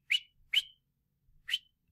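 Three short, sharp whistles sound close and alone during a lesson on adding and subtracting negative numbers, two in quick succession and then a third after a pause, each a bright, brief chirp against silence.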